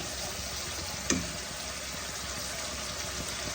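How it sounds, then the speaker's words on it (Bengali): Spice paste frying in oil for Bengali chitol kalia gives a soft, steady sizzle, with a single brief clink near the start. The sound is faint and continuous. "মশলা থেকে তেল ছেড়ে আসলে"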